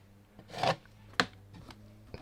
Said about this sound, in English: give that a scrape